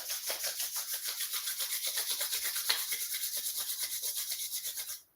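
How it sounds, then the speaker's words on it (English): Palms rubbing briskly together in a quiet yoga session, a steady rapid rasping swish with even strokes for about five seconds, close and fairly soft, ending abruptly. "Bring your hands together, rub your hands."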